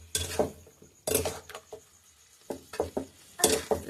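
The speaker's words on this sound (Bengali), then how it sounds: "সেই পেস্টটা দেওয়ার পর একটু নাড়াচাড়া করে দেবো" Spice paste stirred in a cooking pot for chicken curry: quiet, irregular scraping and clinking of a utensil against the pot in short bursts with brief pauses between.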